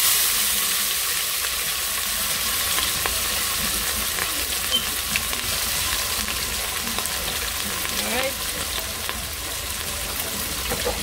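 Garlic, onion and tomato fry in a pot for a Guyanese saltfish cookup rice, making a loud, even sizzle throughout with faint stirring noises and no talking.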